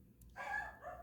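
Dogs bark in the background, a couple of muffled, mid-distance barks at moderate volume with no voices over them.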